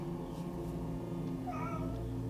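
A cat meows once, a short faint mew rising over a steady humming background.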